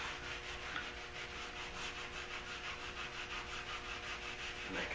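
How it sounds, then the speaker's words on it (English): A sanding sponge wet-sands a car's rocker panels back and forth in steady, even strokes, a continuous close rasping hiss. "it helps give you a little more even pressure when you're sanding in these little confined areas"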